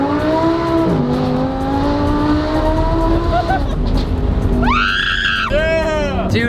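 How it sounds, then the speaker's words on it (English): A car engine revs hard while accelerating and backfires, loud and close, with screaming-like rising engine tones, bursts of cabin excitement and voices throughout. "it backfired as you're accelerating"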